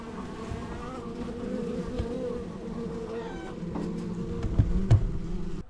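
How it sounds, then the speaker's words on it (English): Honeybees swarming around an opened hive just after being smoked, a steady low droning buzz close to the microphone, with a few individual bees zipping past louder near the end. "Alright, so I just smoked these bees, kind of pushed them down."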